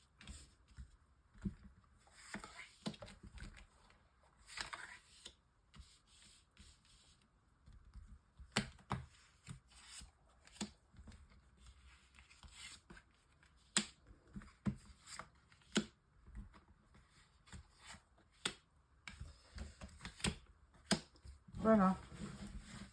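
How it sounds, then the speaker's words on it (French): Tarot cards shuffled and dealt out for a nine-card spread, giving soft papery flicks and sharp card snaps in irregular bursts, close and fairly quiet, with a voice talking between them. "tirage en 9 cartes pour nos amis Verseau"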